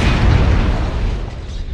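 A destroyed mech blows up in the video game MechWarrior Online with a loud, booming burst that hits at once and then rumbles and fades.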